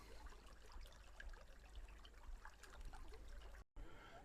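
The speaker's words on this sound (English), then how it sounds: "some shade and the sound of running water" Soft, steady trickle of running water at a distance in the Cradle Mountain area of Tasmania, a faint continuous babble with a brief dropout near the end.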